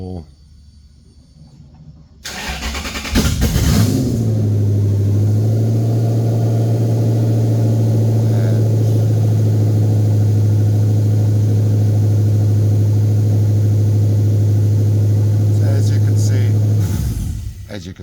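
A 2001 Toyota 2UZ-FE V8 on a standalone engine management system with no immobilizer cranks briefly, catches and settles into a steady, loud, even idle that runs for about fourteen seconds before shutting off.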